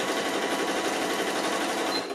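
A sewing machine stitches the fabric of a beach tote bag in a fast, steady, close-up whir that runs for about two seconds and tapers off at the end.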